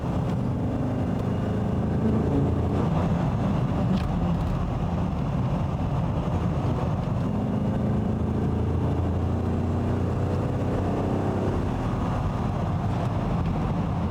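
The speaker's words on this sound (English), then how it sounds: "That lovely bellow, that V8 bellow, is just so addictive." A classic 1970s Aston Martin V8 rumbles steadily while driving, its deep, muffled engine note continuous and even with road noise and no talking.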